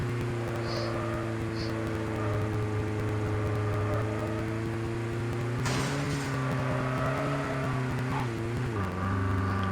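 Car engine in Call of Duty: Mobile drifting and revving, a steady loud game-engine drone with a surge and pitch shifts midway, over continuous background game noise.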